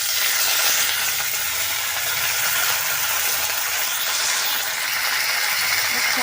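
Curry leaves and tempering spices crackle in hot oil while tamarind-leaf dal is cooked, a steady, dense sizzle with fine spitting that holds at an even loudness throughout.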